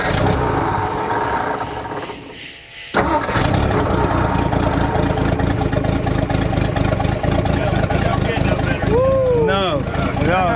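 A 1960 Ford F-350 truck sits after 34 years and its engine starts, the cranking turning abruptly into a loud, close, rough running roar that holds steady. People talk and whoop over the engine.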